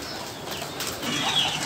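Pet pigeons waiting to be fed biryani beat their wings in a close, fluttering burst that grows slightly louder toward the end, with faint cooing around it.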